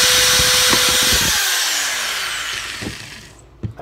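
A power drill boring through wood packed inside a PVC blaster rifle body, a loud close whir that winds down as the bit punches through, followed by a few light knocks.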